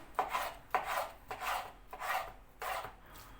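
Five rhythmic knife strokes cutting through chicken on a board, each a short rasping slice, close and fairly loud with no talking.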